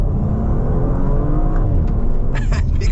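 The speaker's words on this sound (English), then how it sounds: "full throttle from second gear" A 2025 Audi RS4 Avant wagon pulling hard at full throttle from second gear, a loud, dense engine roar rising steadily in pitch over a few seconds, heard from inside the car.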